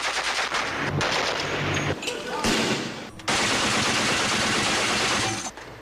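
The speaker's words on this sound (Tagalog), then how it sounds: "mga putok ng baril naman ang umalingaw-ngaw sa mga kalsada ng Zamboanga City" Gunfire on the streets of Zamboanga City in September 2013, rapid bursts of automatic shots and sharp cracks packed into dense volleys, loud and close with brief gaps between the bursts.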